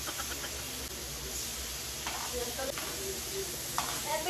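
Marinated samgyupsal pork belly sizzles in oil on a home grill pan, a steady low crackle and hiss with occasional light clinks, while people talk softly nearby.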